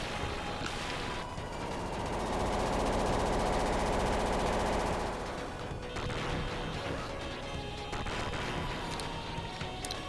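Rapid continuous gunfire from the side-scrolling shooter Gunstar Heroes, a dense rattling machine-gun stream with crashing hits layered over game music, steady and loud throughout.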